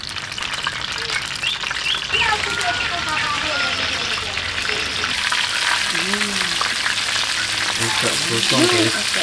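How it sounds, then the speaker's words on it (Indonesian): Loud, continuous sizzling and crackling of tofu frying in hot oil, with a voice speaking over it now and then. "Kita mau menggoreng tahu guys, buat lauknya."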